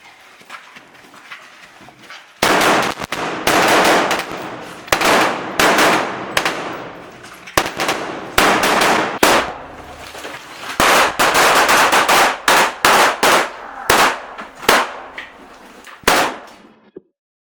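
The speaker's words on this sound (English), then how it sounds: "He shoots at all suspicious objects." Rapid bursts of gunfire from a room-clearing assault drill, many loud close shots fired in quick irregular volleys with brief pauses between strings, no talking over them.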